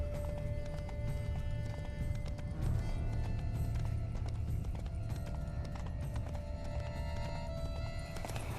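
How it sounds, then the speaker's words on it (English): Horses in The Witcher 3 gallop with steady clip-clop hoofbeats and let out neighs, loud and continuous amid dense game ambience. "Horses must have gotten spooked."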